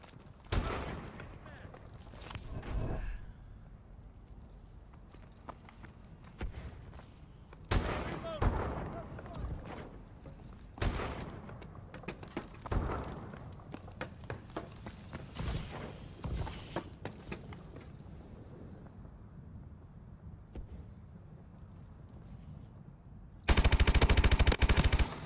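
Suppressive gunfire in the video game Advanced Warfare during a Search and Destroy match. Scattered bursts of automatic fire, some near and sharp and some more distant, sound over a low background, and a loud, dense burst comes at the very end.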